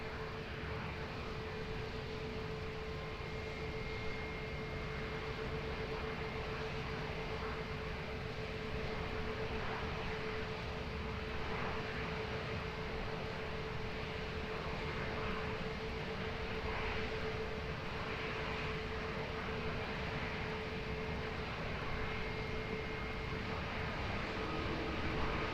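A fixed-wing airliner rolls for takeoff on runway 20 at Lisbon Airport, producing a steady, broad engine roar with a faint tonal hum. The noise holds evenly at a distance throughout, with no voices.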